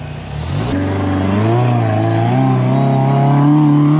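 A 4-wheel steering off-road buggy climbing a rock trail at Frogstompers OHV, its engine revving loud and close in a steady rising drone that holds high through the climb, with no one speaking.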